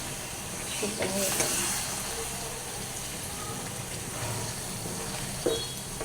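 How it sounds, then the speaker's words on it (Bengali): Dried fish and taro stolons fry over a low flame in a pan, a continuous sizzling hiss with occasional stirring scrapes and a sharper clatter near the end, while a voice talks faintly beneath. "আমি এগুলাকে একটু নাড়াচাড়া করে দেবো"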